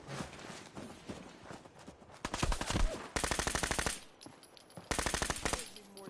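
A gun fires in Fallout 4 in several quick bursts of sharp, evenly spaced shots with short gaps between them, loud and close amid other game sounds.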